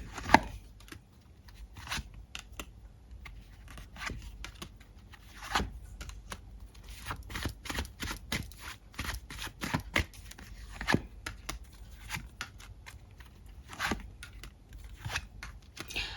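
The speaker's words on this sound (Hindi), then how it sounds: "कुछ कार्ड्स और निकालूंगी।" Tarot cards are shuffled and drawn, producing a steady run of quick papery riffles, slaps and flicks up close, with no talking.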